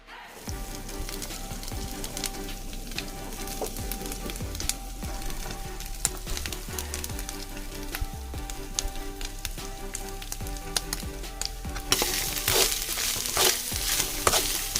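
Peanuts and grated coconut roast in a pan for unnakkaya, giving a steady, close sizzle and crackle with scraping stirs that runs the whole time and grows brighter and louder near the end.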